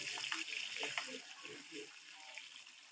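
Cut potato pieces deep-fry in oil over a medium-to-low flame, giving a continuous bubbling sizzle with some stirring clatter, while a person talks over it.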